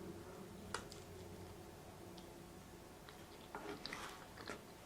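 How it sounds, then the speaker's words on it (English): Crunchy bites into Papa John's stuffed crust pizza, calzone and garlic parmesan bread, heard as a few faint, close crisp snaps and soft chewing in a quiet room with a low background hum. "I heard that crunch, that bite."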